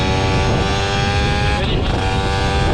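A Mobylette moped engine buzzes steadily and loudly while riding a mountain pass road in the Alps, with a constant droning tone and wind noise throughout.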